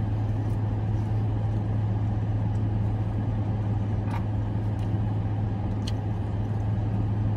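A car idling right next to a parked spot beside a gym, its low steady engine hum constant and close, with a few faint clicks and ticks over it.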